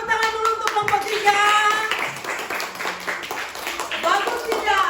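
Children in a classroom clap for group 3 in a short, uneven burst of close hand claps, with young voices chattering and calling out over it.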